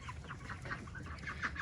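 Golden 300 hybrid hen on a homestead clucking softly in short, close repeated notes against a low background hum.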